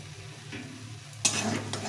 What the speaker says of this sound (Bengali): এখন এর মধ্যে দেবো স্বাদ মতো হলুদ, আর লবণ দিয়ে এটাকে ভালো করে কষিয়ে নেব।